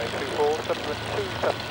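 Propeller engine drone of a two-seater Spitfire conversion during takeoff, a steady low-pitched roar filling the short stretch, with radio-style voices speaking over it.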